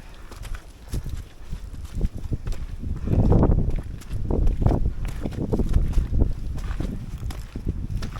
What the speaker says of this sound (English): the wind just picked up something fierce